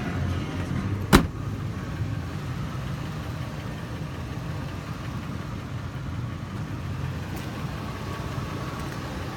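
Pickup truck engine idling steadily with a low, even rumble throughout, broken only by one brief sharp click early on.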